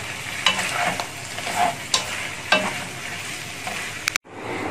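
Bamboo shoots sizzle and crackle in a hot pan with scraping stirs at irregular intervals, ending abruptly in near silence.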